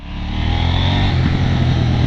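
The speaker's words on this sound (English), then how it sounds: "it's a parallel twin engine with about 105 horsepower" Loud, close engine of a KTM 790 Duke naked motorcycle with a roughly 105-horsepower parallel twin, a continuous throaty rumble that builds slightly and holds steady.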